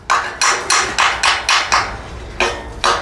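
A hammer strikes a welded metal joint to break it open during a fabrication and structural check, eight sharp ringing blows in a steady rhythm with a short pause before the last two, close and loud.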